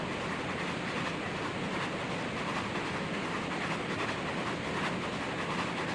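A steady, heavy rumble of a train pulling express coaches along the tracks, constant and fairly loud throughout with no pauses.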